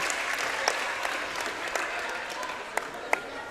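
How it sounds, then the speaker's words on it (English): A large crowd at a seventh-grade boys' basketball game claps steadily and loudly in a big gym, a continuous wash of applause with a few sharper claps standing out. "Applause from the crowd."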